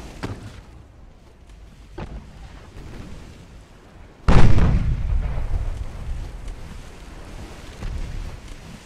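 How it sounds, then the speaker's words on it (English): A loud, close ammunition detonation on a Furutaka-class heavy cruiser in the naval game Ultimate Admiral: Dreadnoughts, hitting suddenly as a deep booming blast after quieter distant thuds, then rolling into a long rumbling decay. "Oh, ammo detonation."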